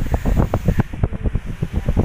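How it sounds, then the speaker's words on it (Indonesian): Strong gusting wind at Labugis in Sidrap Regency buffets the microphone with a loud, continuous low rumble and repeated rhythmic surges; no one speaks. "Ini anginnya sangat kencang"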